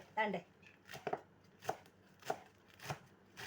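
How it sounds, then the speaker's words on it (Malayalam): Madras spinach folded inside a pumpkin leaf is chopped with a knife, a steady series of crisp, close cuts about every half second after a brief voice at the start. "ഞാൻ ഇപ്പം മദ്രാസ് ചീരയാണ് ഇപ്പം അരിയാൻ പോകുന്നത്"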